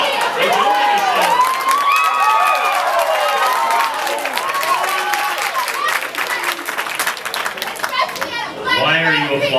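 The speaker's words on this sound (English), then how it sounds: "Why are you applauding?" Crowd at a speaker's campus event at Auburn University clapping and cheering loudly, with shouting and excited voices mixed in and talk continuing over the noise.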